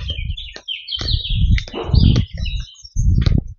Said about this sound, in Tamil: அந்த குருவி கத்துற சவுண்ட் எல்லாம் செமையா இருக்கு.